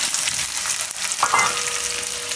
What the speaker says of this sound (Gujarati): ડુંગળીને આપણે થોડીક વાર પકાવી લેવું આમાં.